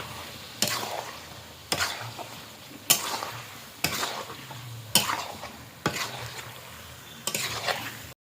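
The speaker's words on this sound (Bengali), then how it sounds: "মাংসটাকে বারবার নেড়ে নিচ্ছি নাহলে লেগে যাবে" Chicken and potatoes frying in spiced masala in a pan, stirred in a regular rhythm of about seven scraping strokes, each a sharp spatula scrape followed by a hissing sizzle that fades, close and without speech.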